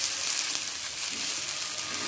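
Moong dal dosa sizzling steadily on a hot pan over a low flame just after being turned, a soft continuous frying hiss with no talking.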